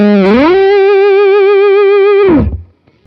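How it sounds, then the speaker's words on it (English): A fuzz pedal on an electric guitar, with fuzz and starve turned up, sustains a single buzzing, saturated note with a slight upward bend at the start, held loud for about two seconds before cutting off abruptly. "I know that I can always get a nice blazing fuzz sound out of this thing"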